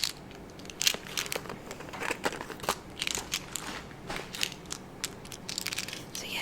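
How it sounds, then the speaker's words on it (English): A giant Tic Tac box is shaken and handled up close, making dense irregular bursts of crisp rattling and crunchy clicks, quiet and intimate with no speech. "The tic-tacs make a really loud sound."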